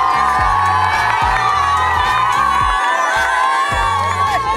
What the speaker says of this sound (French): Faites un maximum de bruit pour les gagnants.